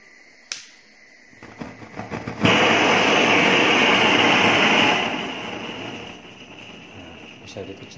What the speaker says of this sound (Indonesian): Kita nyalakan, kita buka gasnya.